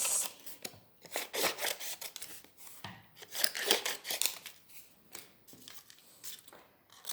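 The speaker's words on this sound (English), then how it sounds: "I've got this crinkly bit here, which I'm going to cut into strips." Scissors snip through crinkly paper in a steady run of crisp cuts, cutting it into strips for a craft leaf; the close rasping snips come one after another with no voices.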